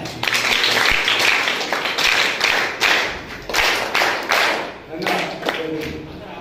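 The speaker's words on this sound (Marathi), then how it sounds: "3 टाळ्या" An audience at the inauguration of a renovated Buddhist vihara claps in rhythmic rounds, dense hand claps rising and falling in bursts across the stretch, fairly loud and close.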